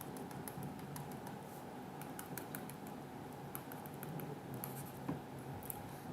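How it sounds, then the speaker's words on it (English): Rubbing strokes of an eraser wiping writing off a board in a classroom lesson, a steady scratchy friction with small ticks and taps, fairly close and continuous with no talking. "Trying to erase it."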